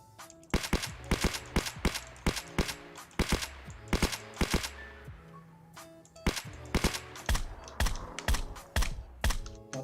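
Rapid video game gunfire, dense bursts of sharp cracks firing in quick, uneven volleys, loud and close with brief pauses between strings.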